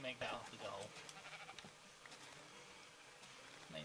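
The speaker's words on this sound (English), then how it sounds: "There's a sheep." Sheep in the Minecraft video game bleat a few times, faint and brief, under ongoing casual talk between players.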